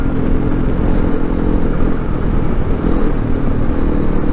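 Honda CRF250L Rally motorcycle riding along a fire road, a loud, close, continuous engine drone with steady rumbling and no pauses.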